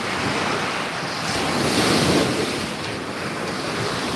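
Sea waves wash continuously onto Gandhi Beach in Pondicherry, a steady loud surf roar with gusts of wind buffeting the microphone and no speech.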